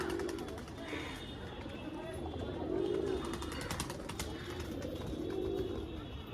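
A pair of black-bead-eyed pigeons coos in low repeated swells under a person talking, with faint clicks and shuffling nearby.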